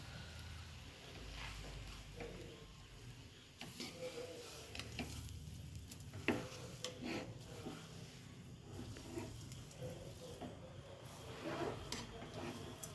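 Stirring a sugar-free, jaggery-free dry fruit laddu mixture in a hot pan: steady, close scraping and soft clicking of the spoon against the pan, continuous throughout with no talking.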